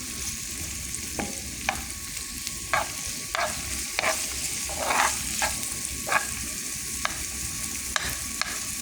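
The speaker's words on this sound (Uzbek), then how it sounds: "Qizartirib qovurib olamiz." Oil and onions frying in a pan for an Uzbek spinach dish: a steady sizzle under regular sharp scrapes of a spoon stirring against the pan, about one every half second to second, close and with no talking.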